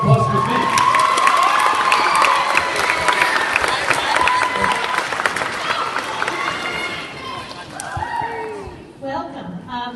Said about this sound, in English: round of applause for Ms. Mink